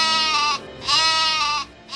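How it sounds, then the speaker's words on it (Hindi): A cartoon goat bleating, two long wavering bleats followed by the start of a third, loud and close. "अरे, यह तो बकरी की आवाज है,"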